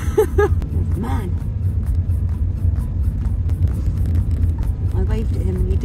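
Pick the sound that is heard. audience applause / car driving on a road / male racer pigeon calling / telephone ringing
car driving on a road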